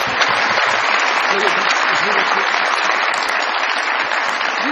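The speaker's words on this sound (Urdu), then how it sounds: "بہت ساری تالیاں" Studio audience applause on a comedy stage show swells into a sustained, dense burst of clapping lasting several seconds, with a brief spoken word over it.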